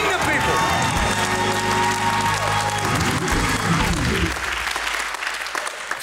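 A church congregation applauds, a loud, full wash of many hands clapping steadily that thins and fades toward the end, with some crowd voices mixed in.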